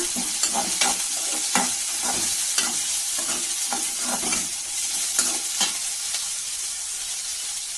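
Onions sautéing in oil for mutton chukka, a steady close sizzle broken by regular scraping stirs of a spoon against the pan, without any talking.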